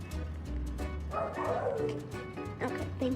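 Yipping virtual dog barks from a game on an EIOTCLUB kids smartwatch, small electronic woofs repeating close up and overlapped by children talking.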